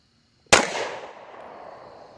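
A single sharp 9mm shot from a SIG P224 Extreme pistol fired one-handed, a loud close crack after a brief hush, ringing out into a fading echo.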